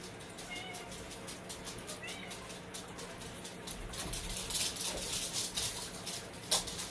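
A domestic cat meows a few times indoors, its calls faint against room noise while a person talks softly nearby.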